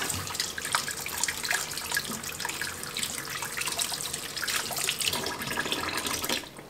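Tap water running steadily into a kitchen sink while turnip greens are washed, a constant close splashing hiss with no talking.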